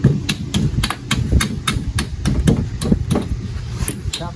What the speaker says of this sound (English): sheet metal hammer, now just tap in all the other ones